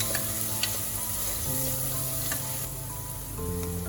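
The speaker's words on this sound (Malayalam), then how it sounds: "അപ്പൊ ഞാൻ ഇതൊരു 3-4 ടേബിൾ സ്പൂണ് വെളിച്ചെണ്ണ ഒഴിച്ചു കൊടുത്തിട്ടുണ്ട്. വെളുത്തുള്ളി ഒന്ന് വഴഞ്ഞു വരട്ടെ." Garlic sautéing in 3–4 tablespoons of coconut oil for a pressure cooker mutton curry, a steady close sizzle with a few faint utensil taps and no talk.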